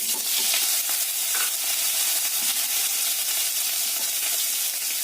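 Potatoes sizzle steadily in hot frying oil seasoned with asafoetida, a dense continuous crackle and hiss close up for the whole stretch, with no talking over it.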